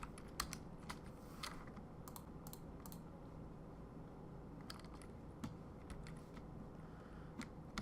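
Fingers tap out a short word on a computer keyboard in bursts of quick clicks, with pauses between clusters over a steady low background hum; no one speaks.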